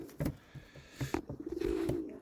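Soft pigeon cooing, a few low throaty coos over faint background noise, fairly close.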